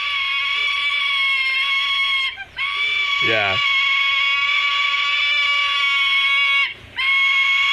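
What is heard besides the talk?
sulfur-crested cockatoo screaming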